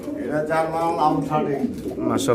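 Pigeons coo at a pigeon farm, a low, throaty warble running steadily through the short stretch while someone talks over it nearby.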